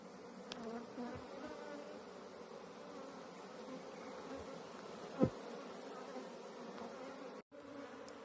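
A steady drone of honeybees comes from an opened hive, dense and continuous at close range. A brief bump of handling noise sounds near the middle, and there is no talk.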